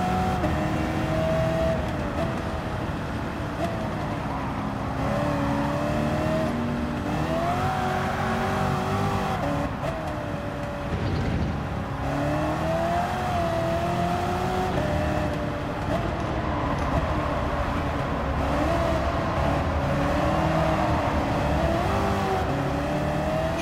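A 2015 Dodge Charger SRT Hellcat in Gran Turismo 7 on Trial Mountain, its supercharged engine droning steadily under load, pitch rising and falling through shifts and throttle changes, loud and continuous with no talking.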